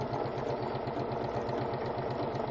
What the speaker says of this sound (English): I'm going to take these guys and sew them face to face to each other